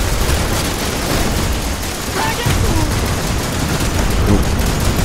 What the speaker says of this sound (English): Somebody got me with a rocket there.